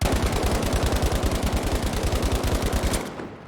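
Rapid automatic gunfire in a video game with heavy recoil, a dense steady burst of shots at a fast even rhythm, loud and close, lasting about three seconds before cutting off.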